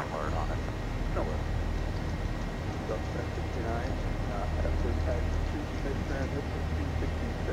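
A Zibo 737 airliner climbs in X-Plane 11, its engines giving a steady, broad roar that stays constant throughout, with talk over the top.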